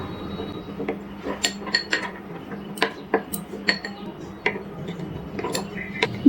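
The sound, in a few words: mixing ground spices with water in a bowl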